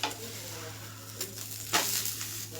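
Egg dosa frying in a pan, a steady soft sizzle under a low hum, with light scraping and a clink of utensils partway through.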